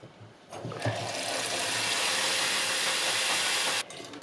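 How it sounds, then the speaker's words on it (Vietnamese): Cold water gushes steadily from a kitchen tap to rinse dried shrimp, a loud continuous rushing stream lasting about three seconds, beginning and ending abruptly, with no talking. "Nước lạnh từ vòi mình xả vô xong"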